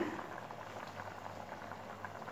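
Rice boiling in a pot for wangi bhaat, a steady soft bubbling simmer that stays even and fairly quiet throughout.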